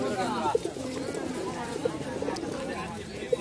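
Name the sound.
Giribaz pigeons cooing at a pigeon market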